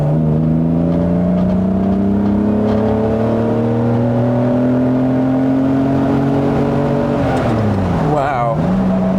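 An Aston Martin DB4 engine pulls hard under acceleration, its loud, close drone climbing steadily in pitch, then dropping abruptly as it shifts and settles near the end.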